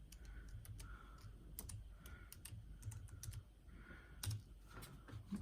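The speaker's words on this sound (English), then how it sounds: "See if I can type in my password" A password is typed with one hand on the keyboard of a new Dell XPS 8950 desktop, with scattered, uneven key clicks over a low steady hum, close and soft.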